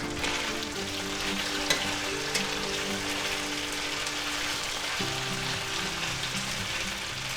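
Beef strips for pepper steak frying in a pan, a dense, steady sizzle and crackle like rain on a surface, close and continuous with a couple of faint clinks.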